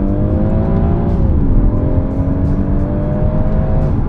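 A BMW M140i with the B58 engine accelerating hard, foot flat in second gear: a loud, close, steady rising engine drone with a shift of pitch partway through, heard from inside the car with no talk.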